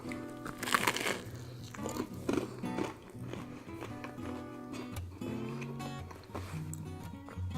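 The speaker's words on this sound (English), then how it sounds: "You got that crunch from that nice classic outside grill marks of the bread." Someone bites into a grilled cheese sandwich with crisp, grill-marked bread, giving close, repeated crunches and chewing that run through the whole stretch over a faint background.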